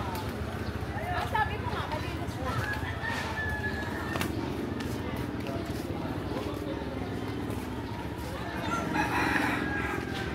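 Roosters and chickens at coops in the Smokey Mountain area of Tondo, Manila. Crowing and clucking sound at a distance through a busy outdoor background, with people talking nearby throughout.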